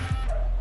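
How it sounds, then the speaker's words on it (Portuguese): Highly trained guard dogs at La Mesa, a Mexican prison, give a single short yipping bark followed by a brief whimper, loud and close, over a low background rumble. "Cães altamente treinados são mantidos nessa área."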